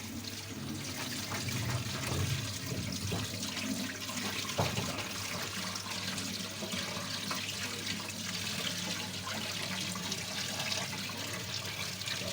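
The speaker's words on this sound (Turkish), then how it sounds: "Ay döktüm kabağı yıkamaya başlıyoruz." Zucchini washed under a steadily running tap, producing a continuous broad rush of water with a few splashes, moderately loud and unbroken throughout, with no voices.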